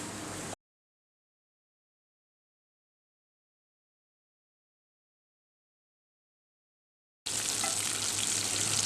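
Chicken pieces fry in hot oil: a close, steady sizzle heard briefly at the start, then a long stretch of complete silence, and the bubbling sizzle returns fuller for the last second and a half.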